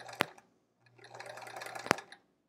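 Home sewing machine stitching a quilt block runs quietly in a short stretch of about a second. Sharp clicks of the machine come before and at the end of the run.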